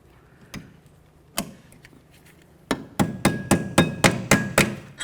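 Hammer striking a brake retainer spring onto the rear brake bracket of a 2004-12 Volvo S40: three isolated metallic taps followed by a quick run of about eight sharp, evenly spaced blows, close and loud.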